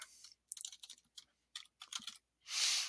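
Keys clatter on a computer keyboard at a Bash command line, in several short bursts separated by brief pauses, ending in a longer, louder run of rapid keystrokes; close and clear, with no talk.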